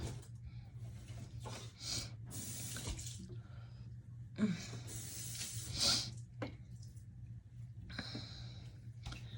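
Household tap running into a sink to wet a wash rag, a close, gushing water stream that surges and breaks off in several bursts, with rag splashes between them.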